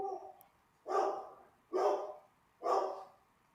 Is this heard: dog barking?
yes